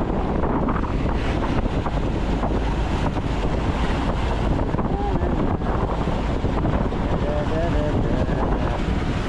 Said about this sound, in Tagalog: Maalon dito banda, umihan ng hangin.